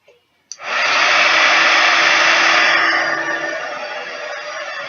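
Heat tool switched on to warm and shape die-cut paper into a flower leaf, a sudden loud steady blowing whoosh held close for several seconds, softening slightly toward the end.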